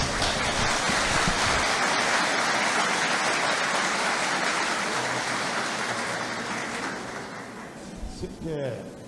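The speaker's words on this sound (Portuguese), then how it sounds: "Vamos recebê-lo com uma salva de palmas." An audience welcomes a speaker to the stage at a spiritist lecture with dense, continuous clapping that gradually fades out toward the end, a voice speaking briefly as it dies down.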